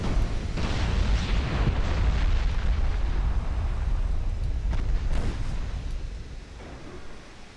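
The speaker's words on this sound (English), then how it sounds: "that was a pretty good torpedo strike" Torpedo strike on ships in a naval war game, a deep rumbling explosion that swells and rolls on for several seconds before slowly fading, heard alone without talk.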